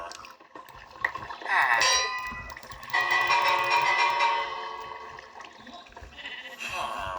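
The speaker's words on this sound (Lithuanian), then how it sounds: "Yra varpas." In a Minecraft hardcore raid, a sheep bleats repeatedly in wavering calls while a bright ringing tone like a village bell sounds, fairly close and steady over several seconds.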